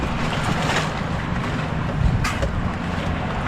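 A small wooden boat rocks and knocks on choppy water at sea, with steady wind buffeting the microphone and waves washing around the hull, loud and continuous.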